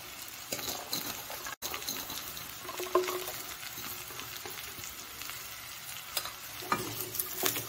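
Carrots and beans being stir-fried in a pan for poriyal, a steady loud sizzle with scraping and stirring strokes and occasional clinks, continuous with no talk.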